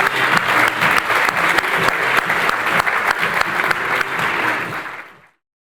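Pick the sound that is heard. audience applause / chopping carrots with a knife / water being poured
audience applause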